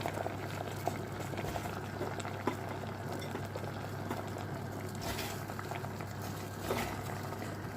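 Swede, courgette, celery and cauliflower boil in a pot of water, a steady close bubbling and hissing with occasional small clinks, no voices.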